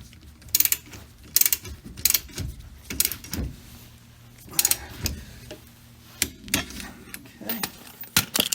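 A ratchet tightens lug nuts on 1.5-inch wheel spacers on a Jeep Cherokee in a crisscross pattern, with repeated bursts of rapid close clicking and metallic mechanism noise, separated by short pauses.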